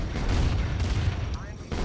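Cannon fire in the real-time strategy game Command and Conquer Remastered: a dense, rumbling barrage of booms filling the short stretch, loud and continuous with little gap between blasts.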